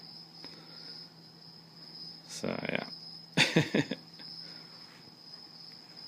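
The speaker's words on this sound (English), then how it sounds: "the crickets playing on the stereo in the background" Recorded crickets chirping from a stereo at a tent campsite, a steady high trill running through the whole clip at modest level, with a short spoken phrase and a couple of louder bursts of talk and movement in the middle.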